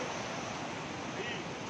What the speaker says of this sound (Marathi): एक लहान असा धबधबा दिसतो